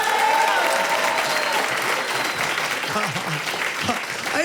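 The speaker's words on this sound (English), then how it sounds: "Give yourselves a round of applause" Audience at a stand-up comedy special claps and cheers, a loud, sustained wash of applause from a large crowd that holds steady throughout, with a voice briefly heard over it.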